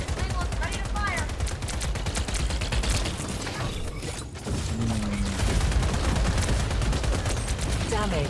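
Rogue turrets in a video game fire steadily, their rapid repeated shots running nearly nonstop and loud, with only a brief dip midway.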